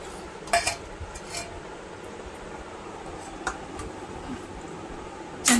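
Tomato chutney being served out with kitchen utensils, giving a few sparse metal clinks and taps against a low, steady room hum.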